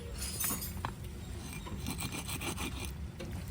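A car brake pad, taken off a Maruti S-Cross during a general service, rubbed down lightly with a continuous rasping scrape of steady strokes, close up and with no talk.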